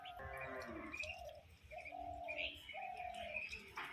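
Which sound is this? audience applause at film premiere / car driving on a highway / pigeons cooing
pigeons cooing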